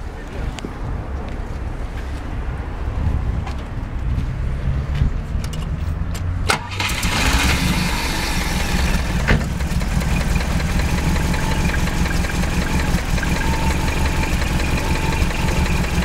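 A turbocharged Volvo B20 engine with water injection cranks and catches, then settles into a steady, rough idle with a slight exhaust leak, loud and close, with people talking over it.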